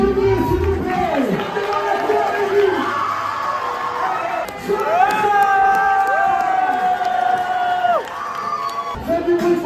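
A loud crowd cheering and whooping continuously, with shouting voices and a bright tone sustained throughout.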